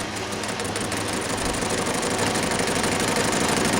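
An engine lathe runs with a steady mechanical hum and a rapid, even rattle, close and loud without pause.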